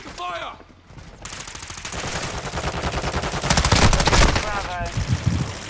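Rapid machine-gun fire in the video game Call of Duty: Modern Warfare II rattles in dense bursts that grow louder toward the middle, mixed with other battle noise and brief voices.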